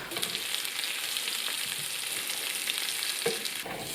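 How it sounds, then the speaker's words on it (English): Onion and cumin seeds cooking in a pan for shakshuka, a steady close bright sizzle with a few spoon scrapes and taps as they are stirred. "add the onion and stir them around and let them gently cook for about 5 minutes."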